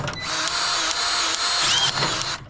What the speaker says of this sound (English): I'm gonna rotate this super slowly and feed it grease.